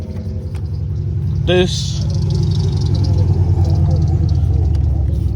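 A loud car engine, an 04-08 Grand Prix undergoing a shift cable replacement, rumbles steadily and close, with a brief chirp partway through and someone talking over it.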